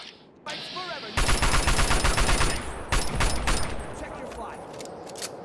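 Rapid bursts of automatic gunfire in Fallout 3's Operation: Anchorage, loud and close, with a steady chattering rhythm for several seconds before trailing into scattered shots; no voices are heard.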